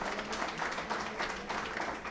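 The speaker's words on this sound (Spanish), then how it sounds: "a quien le pido un caluroso aplauso" Soft, fairly distant applause from an audience at a 2018 tribute ceremony for Jorge Illueca Sibauste, offered for Dr. Luzmila Illueca, brief and even with no voices over it.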